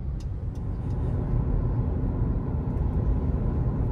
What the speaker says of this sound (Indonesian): Ketika berakselerasi, mesin akan lebih meraung sebelum melakukan upshift.